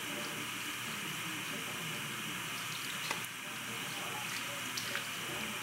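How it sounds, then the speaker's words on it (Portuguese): Water runs steadily from a faucet, a continuous hissing splash with a few small clinks partway through. "liga a torneira de novo"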